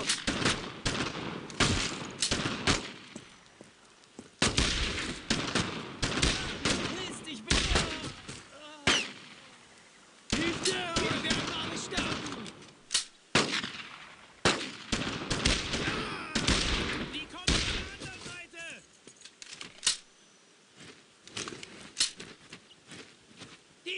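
Heavy gunfire in the World War II shooter Brothers In Arms: Road To Hill 30, bursts of rifle and machine-gun shots crackling in dense volleys with brief pauses, loud and close, with shouted voices among the shots.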